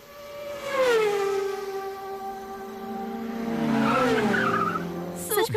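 A voice imitates car and bike racing sounds, a close, loud revving whine that sweeps down in pitch, then rises again into a second engine-like wail.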